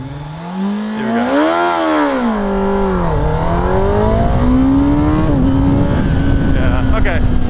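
A 2024 Kawasaki Ninja ZX-10R sport bike launching hard, its engine note climbing steeply through the revs, dipping at a gear change, then pulling strongly again, loud and close to the rider.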